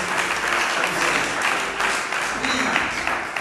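A church congregation bursts into sustained applause and cheering during a worship service, dense and loud for several seconds, with voices mixed into the clapping.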